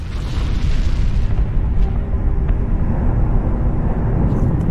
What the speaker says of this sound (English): Hell yeah, that was a cool explosion.